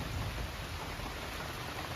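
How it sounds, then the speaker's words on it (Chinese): Heavy rain falls in a rural countryside storm, a dense, even hiss heard quietly and steadily with no distinct thunderclap. "一直打雷下大雨，昨天一个晚上都是这样。"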